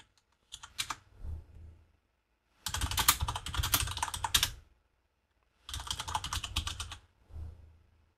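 Computer keyboard typing in three separate bursts of rapid clicking, with short pauses between them; close and clear, no voices.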